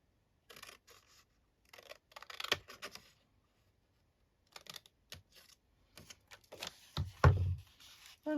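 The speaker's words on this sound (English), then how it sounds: "I'm going to cut" Material cut by hand for a junk journal, heard as sparse, close, quiet snips and rustles in short bursts separated by silent gaps, ending with a louder handling thump.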